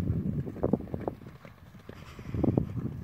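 A horse cantering briskly under a rider, its hooves clip-clopping in a quick, uneven rhythm. The hoofbeats are close and moderately loud, with some wind-like rustle behind them.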